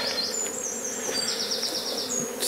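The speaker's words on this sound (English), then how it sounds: "we have bees flying in already" Honeybees fly into a WBC hive at a farm apiary, a steady close buzzing drone with wingbeat whines rising and falling as individual bees pass near, no voices.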